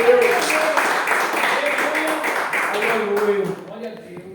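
Church congregation clapping hands together in praise, a dense steady patter of many hands that carries on for several seconds and then thins out abruptly, with voices and a sustained musical tone running underneath.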